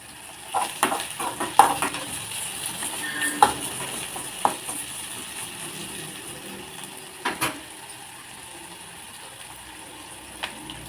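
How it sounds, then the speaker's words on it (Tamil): Dried anchovy thokku is sautéed and stirred in a pan, producing a low frying hiss punctuated by scattered clinks and scrapes of a spoon against the metal, with no one speaking. "லைட்டாக வதங்கிட்டு ரெண்டு கல் உப்பு சேர்த்துக்கலாம்"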